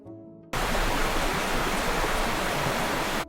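A cartoon waterfall roars in as a loud, steady rush of white water that cuts in abruptly after a brief tonal lead-in and holds evenly until it stops at the end.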